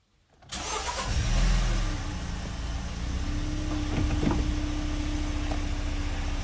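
A Toyota Auris engine fires up after an oil change, cranking briefly before catching with a surge, then settling into a steady, close idle hum.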